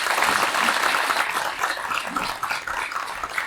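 Audience applause at the launch ceremony for the Korean National Union of Media Workers' 13th executive: dense, sustained clapping that fills the space, strong at first and then easing slightly.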